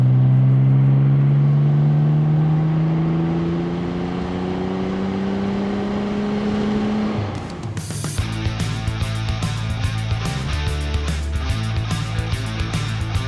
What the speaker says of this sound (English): Turbos spooling through the air filters.